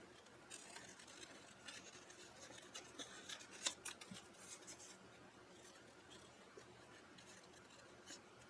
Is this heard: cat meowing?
no